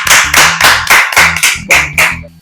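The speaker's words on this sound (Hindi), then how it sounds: "शाबाशी के साथ तालियां दी जाए" Loud, close rhythmic clapping at a comedy sketch, roughly nine or ten distinct hand claps in a steady beat, each with a sharp attack and brief decay, with a faint low tone underneath.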